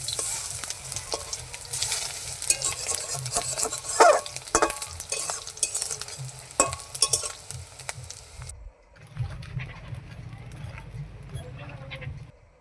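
Fish roe fritters sizzle and crackle steadily in hot, smoking oil in a pan as they are turned over, with brief scraping and stirring touches; the frying stops abruptly near the end before a softer sizzle resumes.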